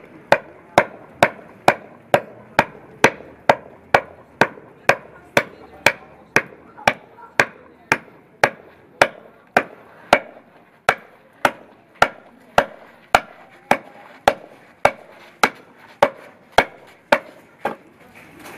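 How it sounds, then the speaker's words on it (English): An adze chops into hardwood in a steady series of sharp, loud thwacks, roughly one every half second for nearly twenty seconds, each strike crisp and close with a short woody decay and no talking. "It's called an adze"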